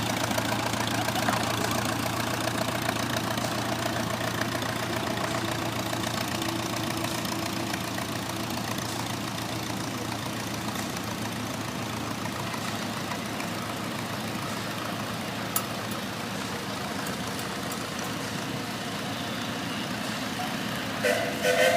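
A 1975 International Harvester Cub tractor rolls in a parade, its engine idling in a steady, moderately near rumble that continues unchanged throughout, with a few faint clicks.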